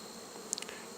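Honey bees buzz faintly and steadily around an open hive during a late-August inspection of capped brood frames, with a few brief brighter tones near the end.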